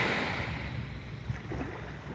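Calm ocean water washes softly at a beach in a steady, low rush with some wind noise, close and continuous with no voices.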